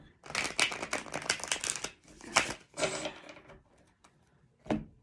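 A deck of tarot cards is shuffled in quick riffling bursts, crisp and close, with a few pauses and a final short riffle.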